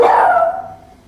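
A single loud dog bark at a run-down kennel rings out close, then fades into a lingering echo.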